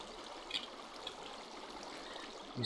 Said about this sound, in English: waterfalls like this really make it hard to walk around